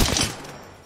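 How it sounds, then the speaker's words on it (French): Rapid gunfire from the Apex Legends video game, a dense burst of close, loud shots that ends abruptly after a fraction of a second and leaves a short fading tail. "Je suis sous le feu."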